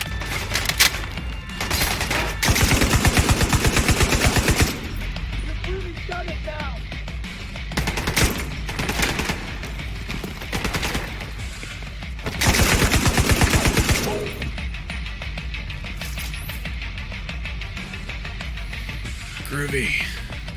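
Automatic gunfire from a gun in The Division 2, sustained bursts of rapid shots repeating several times, loud and close, with a voice talking between the bursts.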